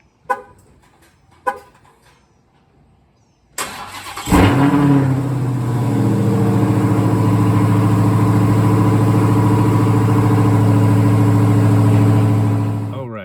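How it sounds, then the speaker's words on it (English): A Dodge Challenger Hellcat Redeye Widebody cold-starts in a garage: a few faint clicks, then the starter cranks and the supercharged engine catches with a loud bark before settling into a steady, heavy, close idle. "The garage is still a mess, but here we go with a cold start"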